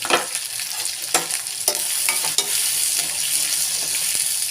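Tomato, beans, carrot, capsicum and onion sauté in a hot pan, giving a loud continuous sizzle with a few spoon scrapes and stirring knocks up close, no speech.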